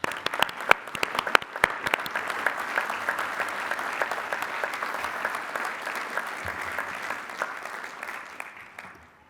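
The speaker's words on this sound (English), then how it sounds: "Please recognize these candidates with your applause." A large commencement audience applauds degree candidates at a university spring ceremony, dense sustained clapping with a few sharp individual claps up front, holding steady before tapering off at the end.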